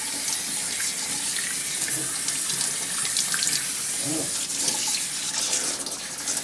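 Running water pours steadily over a Yorkie during its bath, a close, continuous splashing rinse from a tap with no talking.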